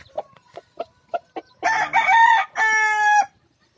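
A gamecock rooster gives several short clucks, then crows twice in loud, close, drawn-out calls, the second one held steady, with no talk over it.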